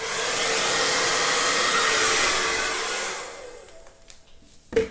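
Hair dryer or heat tool blowing hot air in a steady, loud, close whoosh for about three seconds, then switching off and dropping to a quiet room with a brief clatter near the end.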